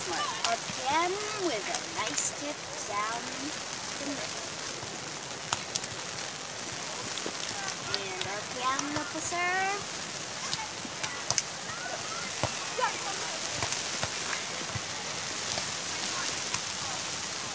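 Rain falls on a sand beach volleyball court during a club match, a steady hiss of drops with scattered crackles, while voices talk over it.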